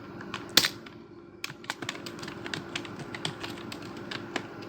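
Fingers tapping out text on a computer keyboard, a close run of quick, uneven key clicks following a sharper initial clack, alone over a faint hum.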